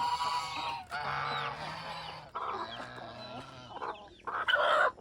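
A rooster in the Philippine mountains crows and clucks several times in a row, loud and close, with faint background sounds between calls.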